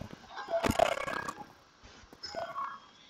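Chickens in a plains biome of a video game cluck and squawk in a few short bursts, moderately loud and close, with gaps of near quiet between them.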